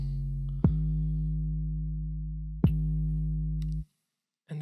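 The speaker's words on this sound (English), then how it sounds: "I called this the Wow 808" Deep 808 bass dubbed the Wow 808, playing two long booming sustained notes with sharp attacks, loud and isolated, then a short drop to silence before a new note begins, with no voices.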